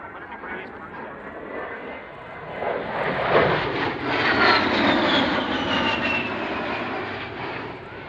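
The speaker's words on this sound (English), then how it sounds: "now positioning the A-10 for a pass down the show line" A Fairchild A-10 jet sweeps past along the show line at the Royal International Air Tattoo, its engine roar swelling from a distant whine to a loud, rushing peak and slowly fading.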